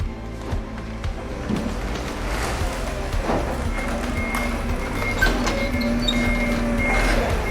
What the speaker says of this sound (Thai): อันนี้เป็นรถจากโรงงานไบโอดีเซลนะครับผมวันนี้มารับให้เราเนาะ